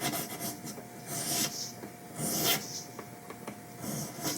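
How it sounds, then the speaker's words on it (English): A three-cornered file rasps lightly across the top edges of guitar fret wire, chamfering them in short repeated strokes, close and fairly quiet. "I also like to take a 3-cornered file, just run it across the top of the fret, and just kind of lightly chamfer the edges there."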